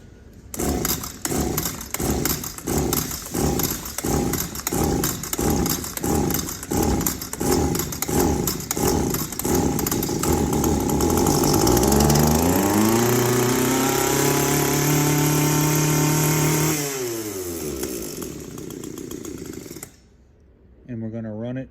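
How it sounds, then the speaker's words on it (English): A flooded two-stroke engine is pull-started again and again, with about a dozen rhythmic rasping pulls before it catches and revs briefly, then cuts out and restarts near the end. "It's going to take a lot of pulls to start it because the engine is flooded."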